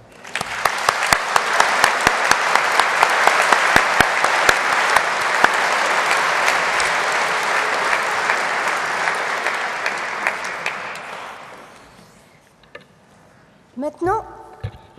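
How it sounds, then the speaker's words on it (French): A gala audience breaks into sustained, loud applause, dense clapping that swells and holds for roughly eleven seconds before dying away. A few faint sounds and brief speech follow. "nous puissions l'applaudir un instant"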